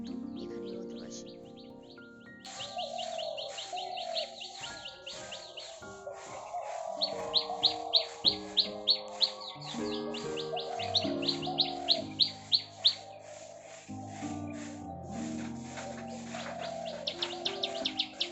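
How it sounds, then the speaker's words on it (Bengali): Many birds calling in the morning outdoors among trees, a lively overlapping chorus of chirps and repeated tweets, some close and bright, with no talk. "তোমরা কি শুনতে পেলে সকাল সকাল এত পাখির ডাক?"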